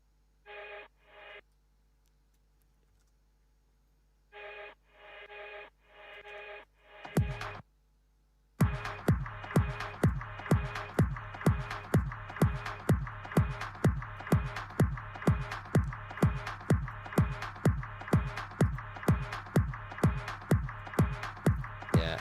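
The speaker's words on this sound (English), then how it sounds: "We have the tail, and now we want this tail to be" Reversed reverb tail bounced to audio in a dance bootleg: short tonal bursts swell into a rising reversed whoosh, then a brief gap, then a loud, steady pulsing beat of regular hits.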